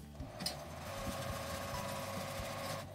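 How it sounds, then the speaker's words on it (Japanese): A sewing machine runs steadily, stitching the hem of a lightweight eco bag made from cut cloth, with an even, continuous mechanical whir throughout. "ミシンをかけます。"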